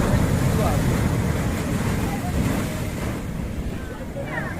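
Sea waves at Digha Jagannath ghat: a steady, loud wash of surf and splashing water, mixed with wind buffeting the microphone, continuous throughout.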